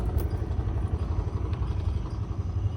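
A motorcycle engine runs steadily at close range with a low, even rumble and some faint rattling, heard alone without talk as the rider leaves home with a dog seated on the bike.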